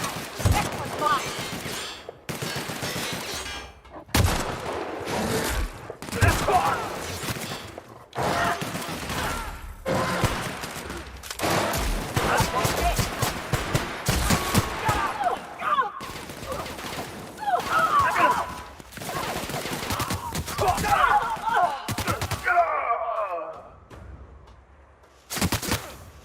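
Sci-fi firearms crack in dense bursts through a firefight in The Outer Worlds, volleys and single shots overlapping with thuds and impacts. Combat voices call out among the shots, and the shooting thins toward the end.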